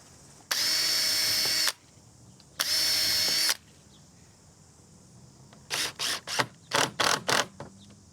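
A power drill drives screws into the end of a wooden gate frame in two sustained whirring bursts, followed by a cluster of short, quick trigger pulses, with no talking.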